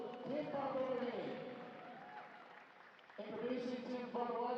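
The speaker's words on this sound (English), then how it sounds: "Let's give a big round of applause to Team Papua New Guinea" A crowd applauds Team Papua New Guinea at a FIBA Melanesian Cup 2025 basketball game, a steady wash of clapping with a voice speaking over it throughout.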